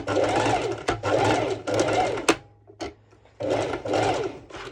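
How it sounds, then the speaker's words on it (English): Sewing machine stitching pole dance bottoms with a net overlay: bursts of fast, steady mechanical whirring separated by brief pauses and a few clicks, close and loud. "My sew machine usually does not have a problem."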